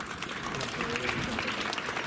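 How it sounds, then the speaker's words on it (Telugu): Applause from a crowd gathered to welcome soldiers on a cycle rally, a steady, fairly loud clapping mixed with crowd noise and some voices throughout. "గట్టిగా చప్పట్లు."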